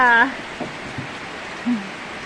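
Steady hiss of rain falling throughout, with a brief voice at the start and faint low murmurs underneath.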